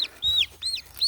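Small baby chicks peep in a rapid run of high, bright chirps, four or five close calls rising and falling in pitch, with a faint low rumble beneath.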